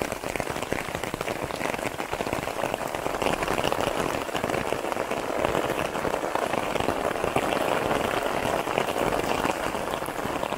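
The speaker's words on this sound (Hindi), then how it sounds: "करके बारिश शुरू हो गया है" Steady rain in Meghalaya pattering densely on a surface, a continuous close hiss of drops with no pauses and no voices.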